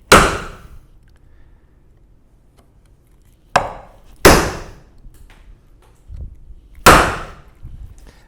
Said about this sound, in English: So just chisel a little pocket.